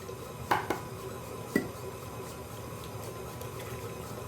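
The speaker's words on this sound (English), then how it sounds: "I'm going to crack each egg, put a little napkin here for my shells." Eggs cracked one at a time for a chocolate pound cake, a few sharp taps against a bowl's edge over a low hum, close and fairly quiet with short pauses between.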